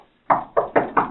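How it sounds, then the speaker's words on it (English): Four sharp knocks on a door, evenly spaced and close by, following a brief silence. "Let me knock on the door"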